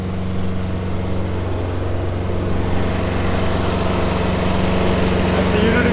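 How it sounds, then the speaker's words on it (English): A diesel generator installed on an RV in place of the original propane unit, fed from a 150-gallon main fuel tank, runs with a steady low droning hum at a constant even level throughout. "The generator works."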